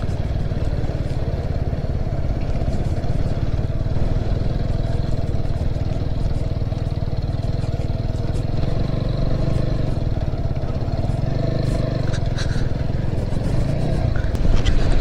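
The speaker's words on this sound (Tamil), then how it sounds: "பாருங்கள் பைக்கெல்லாம் எப்படி போகுதுன்னு சொல்லி" Several motorcycles ride across a dry lake bed in Sri Lanka, a steady loud engine drone with clattering, close to the microphone throughout while someone talks over it.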